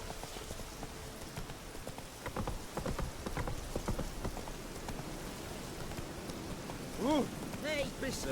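Geralt's horse Roach in The Witcher 3: Hearts of Stone, hooves clip-clopping in a steady walking rhythm through falling rain, with a brief snort or whinny near the end.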